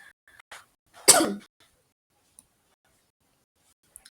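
A single sharp cough bursts out near the mic, short and broadband, with faint small clicks and near-silence around it.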